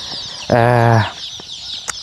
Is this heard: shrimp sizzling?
no